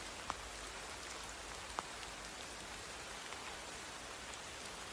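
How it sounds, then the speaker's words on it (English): Steady rain falls on soft earth, a continuous even hiss with a couple of brief louder drips standing out against the wash, close and calm with no voices. "The sound of the rain falling on the soft earth."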